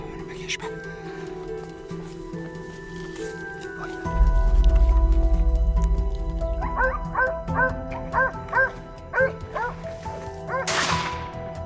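Hunting dogs give a quick series of sharp barks and yips in the middle of the clip, alongside squishy rustling and a low rumble, with a voice talking at times.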